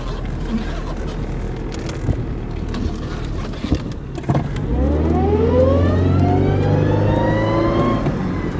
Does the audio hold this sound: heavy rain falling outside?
no